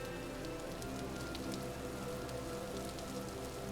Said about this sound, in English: I could only sit and listen to the rain.